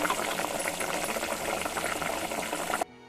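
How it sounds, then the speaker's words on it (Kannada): Dry fish curry bubbling in a pot on the stove, a dense continuous boil with churning, gurgling texture close up, cutting off abruptly near the end. "ನೋಡಿ ಕುದೀತಾ ಇದೆ"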